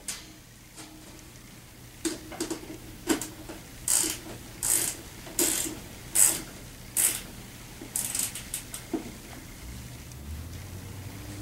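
A ratchet wrench clicks in repeated short bursts while tightening bolts during assembly of a TaoTao CY50T3 scooter, close and distinct, with brief pauses between strokes.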